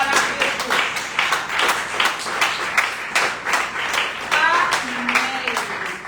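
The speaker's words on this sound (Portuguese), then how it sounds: "Dê aplauso para Jesus." A church congregation at a Wednesday service claps in rhythmic bursts, with voices and singing-like tones mixed through the steady clapping at moderate loudness.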